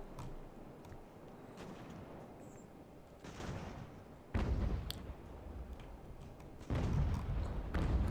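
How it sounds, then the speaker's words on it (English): Muffled cannon broadside from a sailing warship in an Age of Sail naval battle, a series of deep booming shots at moderate distance, with two heavier thuds standing out among scattered distant firing. "Pop a nice broadside into her."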